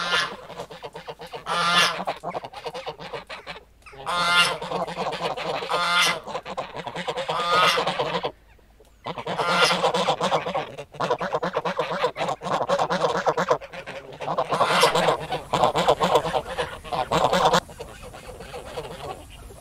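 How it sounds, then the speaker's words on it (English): Farm geese honk in repeated noisy bursts, a flock calling loudly and close with brief pauses between volleys of harsh cries. "Geese."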